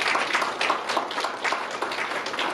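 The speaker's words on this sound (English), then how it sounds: "Please, a big round of applause for her." Dense, continuous applause from an audience at an international applied ethology society inauguration, many hands clapping together at steady volume throughout.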